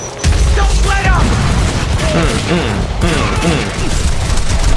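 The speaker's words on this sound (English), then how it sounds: "Grenade!" Heavy gunfire crackles with a booming grenade blast in a shooter game firefight, loud and dense with rapid overlapping shots throughout.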